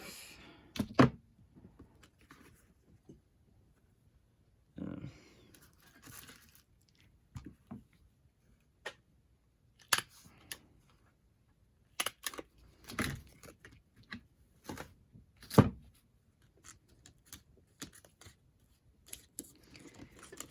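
Scissors snip through an altered playing card, a scattered series of sharp, close cuts and clicks separated by quiet pauses, with no talking.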